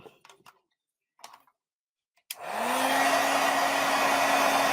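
Heat dryer switched on after a few soft clicks and taps, then blowing in a loud steady whoosh with a rising motor whine while drying a stamped card.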